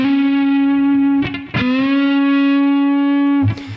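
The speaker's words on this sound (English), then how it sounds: "I'm going to bend the note with my 3rd finger" Distorted electric guitar in half-step-down tuning, a single sustained note on the third string bent upward, re-picked once, then held with a smooth rising pitch, loud and close, played alone in a Texas blues style.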